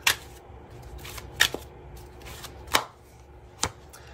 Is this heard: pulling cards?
yes